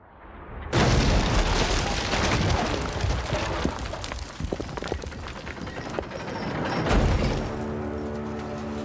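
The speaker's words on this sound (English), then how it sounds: "Bombs away. Take cover!" Heavy bomb blasts in the medieval video game Kingdom Come: Deliverance II: a loud, sudden boom followed by rumbling, crackling debris, then a second strong blast swelling near the end, with no talking.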